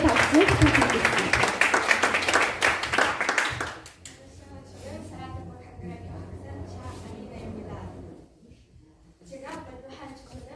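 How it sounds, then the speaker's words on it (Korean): An audience at a Korean-language speaking contest in Moscow applauds warmly for several seconds, then the clapping fades into quieter room sound with faint talk. "다시 한번 뜨거운 응원의 박수 부탁드리겠습니다."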